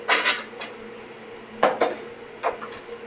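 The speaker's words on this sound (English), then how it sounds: "So I'm going to mix up the eggs in this bowl." A whisk or fork clatters against a bowl while eggs are mixed, giving a few bright, close clinks in short bursts with quiet gaps between them.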